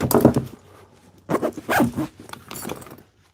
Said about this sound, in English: But this bag will still zip up